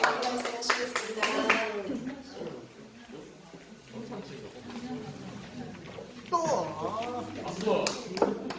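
Clapping at a church service breaks out in short, uneven bursts at the start and again near the end, mixed with voices talking and calling out.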